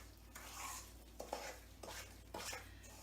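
Brownie batter with vanilla extract is stirred in a bowl, giving soft scraping strokes and a few sharper clinks of the utensil against the bowl, quiet and close.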